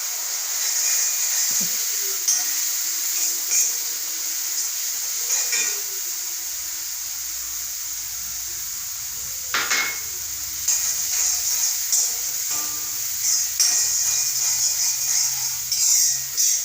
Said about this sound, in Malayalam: നല്ലവണ്ണം തിളച്ചിട്ടുണ്ട്